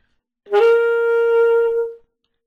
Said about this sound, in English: If I were to play with a scoop